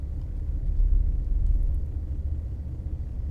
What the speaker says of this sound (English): you can just hear the truck